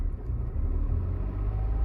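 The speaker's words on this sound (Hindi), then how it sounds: "ये देखा भाई गाड़ी की आवाज थोड़ी सी बढ़ी, लग रहा है कि भाई गाड़ी आगे बढ़ना चाह रही है" Low, faint rumble of a car engine idling in gear with the clutch pressed, its tone swelling slightly as light throttle is added. The engine is heard alone and sounds close.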